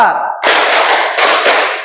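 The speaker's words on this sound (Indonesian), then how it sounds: "Tepuk 1, tepuk 2, tepuk 3, tepuk 4" A class claps hands together in rhythm, heard as two dense, loud bursts of clapping that follow a brief tonal, voice-like sound.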